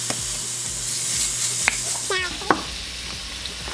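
Sausage sizzles in a hot pan with a steady broadband hiss, joined by a few light clinks and scrapes of stirring and a brief squeak near the middle.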